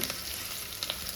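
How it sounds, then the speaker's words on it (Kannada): Onions and green chillies fry in a pan with a steady, fairly quiet hiss and a few light crackles close by. "ಹಸಿಮೆಣ್ಸಿನ್ಕಾಯಿ ಎಲ್ಲ ಫ್ರೈ ಆಗ್ತಾಯಿದೆ"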